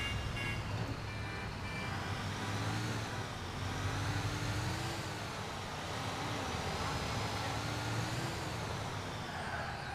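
A MAZ KS3577 truck crane drives in Grand Theft Auto IV with a steady, moderately loud engine drone whose pitch rises and falls gently as it moves, with no talk over it.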